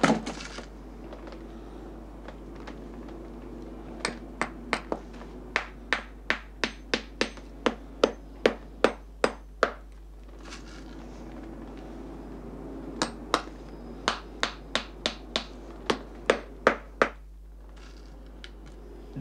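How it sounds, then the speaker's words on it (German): A shoemaker smooths leather with light blows from the rounded side of a hammer head: two runs of quick, evenly spaced taps, close and crisp, separated by a short pause. "Mit leichten Schlägen glättet er das Leder."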